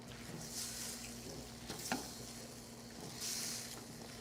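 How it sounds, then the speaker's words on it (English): Noodles stir-fried in a pan sizzle quietly and steadily, with occasional scrapes and stirring clatters from a utensil against the pan, close but faint and with no talking. "keep stir frying this."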